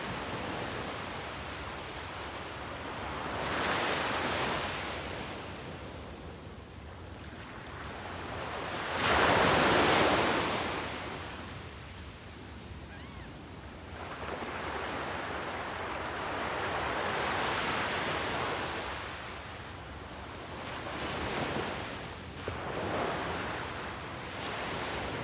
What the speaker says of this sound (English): Soak in the sounds of the waves